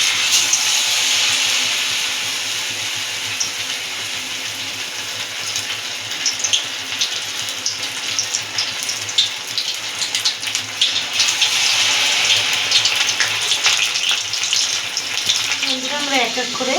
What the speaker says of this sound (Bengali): আস্তে আস্তে আমি লোটে মাছগুলো গরম তেলে ছেড়ে দেব।